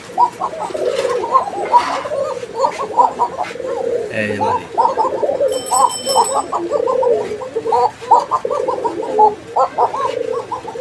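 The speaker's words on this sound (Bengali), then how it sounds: "প্রচুর ডাকের একটা কোকা এটা হচ্ছে নর" White Arabian pigeons coo continuously in low, rolling calls throughout, with brief chirps and a faint voice mixed in nearby.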